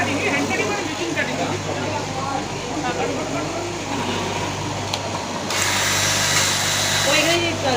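A machine cutting jute bags runs with a loud continuous mechanical whir and grind in a busy jute bag workshop in Bengal. A voice talks over it.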